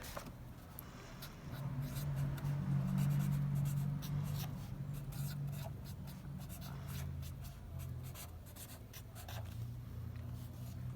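Steady, scratchy writing on a board during a Portuguese-language elementary math lesson. It runs continuously as close, soft rubbing strokes with no talking.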